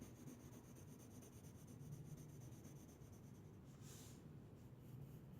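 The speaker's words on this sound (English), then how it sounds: "So, I scribble on a base coat." Light, continuous scribbling of a Polychromos colored pencil laying a base coat over a faceted gem drawing, a soft steady rubbing scratch close up with no talking.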